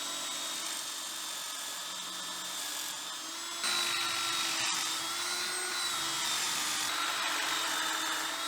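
A power drill whines as it drives screws into pocket holes in a scaffold-board cabinet, with a sustained high-pitched motor tone that rises in intensity partway through.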